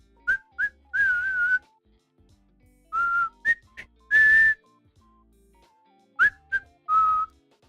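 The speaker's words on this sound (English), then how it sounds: "Can you whistle though?" A person whistles in short bursts, a series of clear high notes and brief warbling phrases separated by pauses, close and fairly loud in a quiet room.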